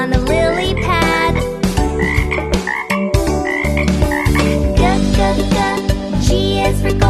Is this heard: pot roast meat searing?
no